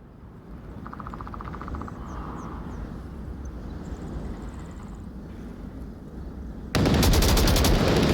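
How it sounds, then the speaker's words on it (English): Rapid automatic gunfire in a competitive online shooter match, bursts of machine-gun fire over a constant rumbling background, ending in a loud sustained volley close up. "Soldiers as well taking those shots, and all down to Sly."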